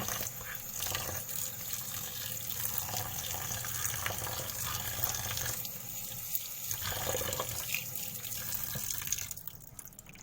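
Oyster mushrooms rinsed under a running kitchen tap, a steady close rush and splash of water into a sink that carries on without a break and cuts off just at the end, with no talking.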